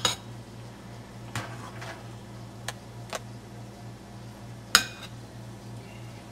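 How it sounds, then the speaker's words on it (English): A few sharp clinks of dishes and a pot as boiled food is lifted out onto a plate, scattered bright knocks over a steady low hum, no voices. "I'm just going to take that out, put it into a plate"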